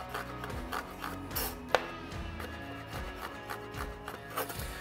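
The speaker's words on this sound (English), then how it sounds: "I'm gonna start with the shallot, peeled and sliced in half. I'm just gonna make thin slices." Knife thinly slicing a peeled, halved shallot on a cutting board, repeated soft cuts and scrapes in an uneven rhythm with one sharper click, close and quiet.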